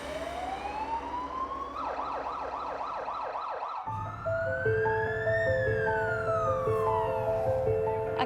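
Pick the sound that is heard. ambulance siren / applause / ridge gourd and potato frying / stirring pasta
ambulance siren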